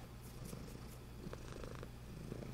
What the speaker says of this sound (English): You may be able to hear my cat purring right now.